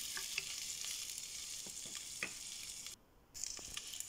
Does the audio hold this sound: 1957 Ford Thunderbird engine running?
no